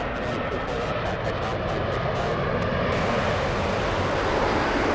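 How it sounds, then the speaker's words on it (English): An Alaska Horizon airliner arriving from San Francisco gives a continuous broadband engine roar, steady and fairly loud across the whole stretch. "We have Alaska Horizon flying in from San Francisco."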